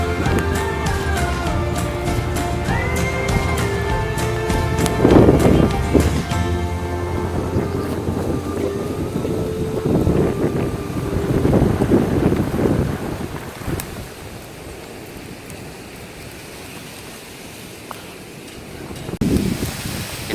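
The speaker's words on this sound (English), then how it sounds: "But it's very windy today." Strong wind roars and buffets the microphone throughout, with gusty rumbling rising and falling and a few clattering bumps in the mix.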